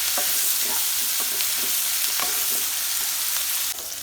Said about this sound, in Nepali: अलिकति फ्राई हुन दिनुपर्छ, हल्का ब्राउन हुन दिनुपर्छ।